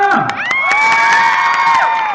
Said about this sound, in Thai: ใครชื่นชอบคุณแม่ขอเสียงปรบมือ